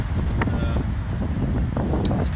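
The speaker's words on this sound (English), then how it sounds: "It's kind of windy today" Gusty wind buffets the microphone at an Ionity charging station at a motorway service area, a loud, steady low rumble throughout.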